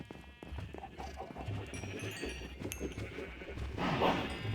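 A Minecraft sheep bleats in short, soft game-sound calls over steady low background noise, faint and somewhat distant.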